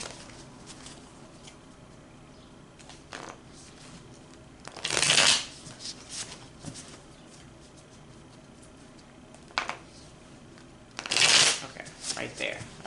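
Playing cards being shuffled by hand, two sharp riffling bursts several seconds apart with softer card handling and light movement noises between them.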